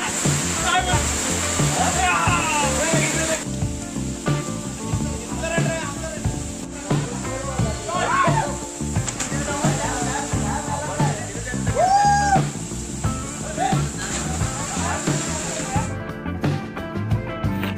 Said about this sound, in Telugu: వేసవి కాలంలో కూడా ఈ జలపాతంలో వాటర్ ఉండటం మనం చాలా విశేషమనే